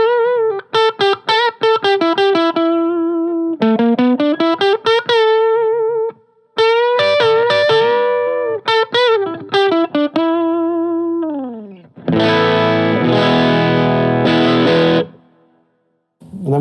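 Electric guitar through a TC Electronic Mojo Mojo overdrive with the voice switch on: loud overdriven single-note bends and slides, then a thick strummed chord that rings out and stops.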